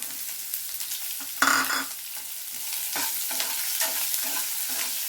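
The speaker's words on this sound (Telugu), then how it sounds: "ఉల్లిపాయలు కూడా బాగా వేగే వరకు కలపాలి" Onions frying in a pan with dal and garlic for a methi tomato curry, a steady sizzle broken by scraping stirs and one louder clatter early on, no talking.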